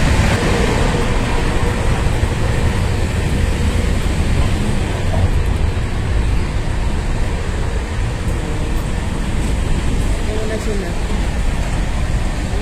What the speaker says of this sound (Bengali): আমাদের ট্রেন চলছে।